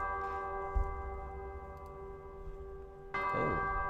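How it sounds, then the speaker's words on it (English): Chiming bells from the Pokemon TCG Pocket video game ring in sustained tones with a fresh strike near the end, moderately loud and alone. "Got the bells going."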